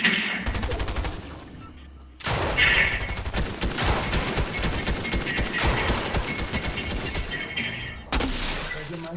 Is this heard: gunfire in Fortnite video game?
yes